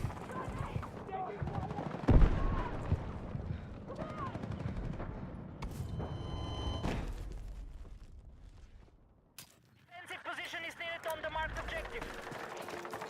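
Rapid gunfire bursts and blasts in a Battlefield 6 firefight, crackling shots at moderate level with a brief quieter gap before the shooting resumes, under a player talking.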